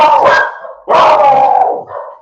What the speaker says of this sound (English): get the puppies out of here